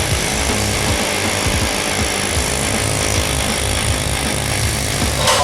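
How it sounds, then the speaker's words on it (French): A pneumatic gun fitted with a sharp blade cuts into tire rubber, giving a loud, harsh, continuous grinding roar that holds steady, close and without pause. "Un pistolet pneumatique avec une lame tranchante au bout."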